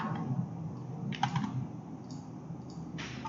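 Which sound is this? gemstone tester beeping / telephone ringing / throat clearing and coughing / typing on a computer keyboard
typing on a computer keyboard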